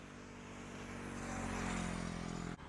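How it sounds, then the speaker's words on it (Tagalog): A drone flies over a rural area in Canmano, Sagbayan, Bohol, its propellers giving a steady, fairly close buzzing whine that swells slightly before an abrupt dip near the end. "Magpalupad mig drone tanawa ang area."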